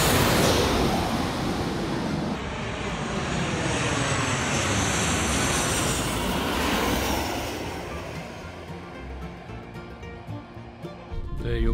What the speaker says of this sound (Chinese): 等下飞机呢从上面飞过来，然后这样子穿过去